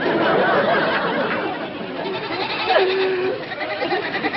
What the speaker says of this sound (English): McGee, get those goats out of here or I'll...